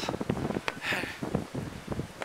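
Strong wind buffets the microphone on the steep, cold Great Wall of China at Badaling, a continuous roar with gusty rustling and bursts of noise that swell and fade throughout.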